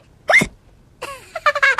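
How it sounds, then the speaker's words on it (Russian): A child hiccups after gulping juice too fast at breakfast: one sharp hiccup, a pause, then a quick run of several more short gulping hiccups, close and clear with no talk. "Теперь икает."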